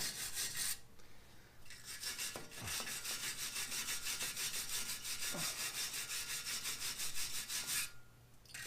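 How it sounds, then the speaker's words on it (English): Cleaning and smoothing the wheel spindle surface on a Jeep Wrangler during a wheel bearing and brake job, a steady close scrubbing rasp running for several seconds with brief pauses near the start and end. "I'm going to clean my spindle."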